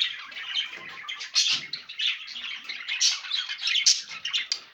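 Birds at a nest box, with a male feeding the female at the entrance, give a busy, close stream of high chirps and twitters, continuous and overlapping with brief louder squeaks.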